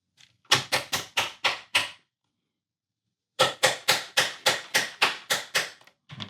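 Hammer blows striking pieces of a Christmas book nook under construction: a quick run of six sharp taps, a pause of about a second and a half, then a second longer run of steady, evenly spaced knocks, close and fairly loud.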